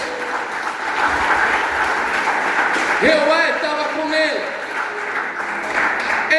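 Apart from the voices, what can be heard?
congregation clapping in church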